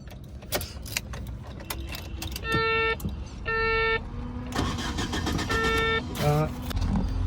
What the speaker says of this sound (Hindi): एक बार गाड़ी को हम ऑन करके एक बार देख लेते हैं